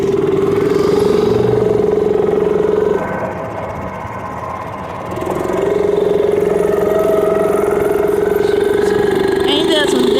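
A mini bike engine drones loud and steady while riding, dipping lower for a couple of seconds mid-ride before climbing back to a strong, even hum with a brief rise near the end; a voice talks over it.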